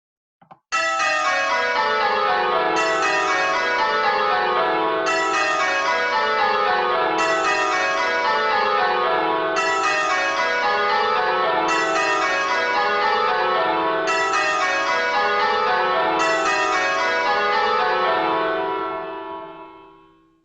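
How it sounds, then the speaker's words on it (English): A peal of church bells ringing changes, with a pair of bells swapping places in the sequence; a steady, continuous cascade of overlapping bell strikes in repeating rows, loud and resonant, fading out at the end. "So just try to listen really carefully to which bells might be swapping."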